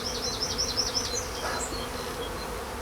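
Honey bees buzz steadily around an opened hive during an early-spring inspection, a close, continuous drone with wavering high whines as individual bees pass near, no talking.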